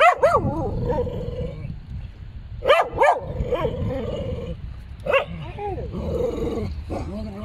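Aggressive dogs bark at a Jewish cemetery overgrown with weeds, sharp bursts of barking and yips coming in uneven clusters at moderate distance, with whimpering between them.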